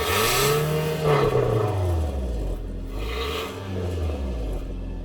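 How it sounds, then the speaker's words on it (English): A first-generation Scion tC with stock exhaust and stock engine runs nearby, its note swelling and falling through a couple of rev sweeps over a rumbling idle, close and fairly loud. "I'll start the car and I'll let you listen to what it sounds like right now."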